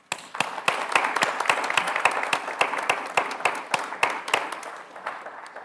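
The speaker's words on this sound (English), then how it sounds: "Please join me in giving yourselves a round of applause." Graduates at a spring graduation ceremony clap for themselves, a sparse round of distinct, separate claps from a small group that gradually thins out.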